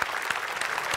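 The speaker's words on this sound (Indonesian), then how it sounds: "kalau gitu tepuk tangan dulu buat Revalina." Studio audience applause at a televised celebrity challenge show, a short dense burst of clapping from a crowd, fairly distant and even throughout.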